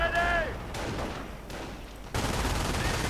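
Gunfire from a Company of Heroes 2 match, with bursts of rapid shots and explosive cracks over a dense battle din, mixed with game voice lines; a machine gun position is involved, and the noise jumps louder near the end.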